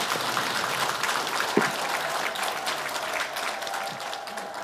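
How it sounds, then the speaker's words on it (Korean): Sustained applause from an audience, many hands clapping together at moderate volume, continuing evenly throughout. "큰 박수 부탁드립니다"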